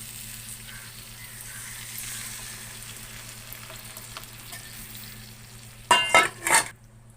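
Buttermilk poured into a pan of fried brinjal sets off a sudden loud sizzle near the end, after a long stretch of quiet low hum, with a few bursts of stirring and bubbling.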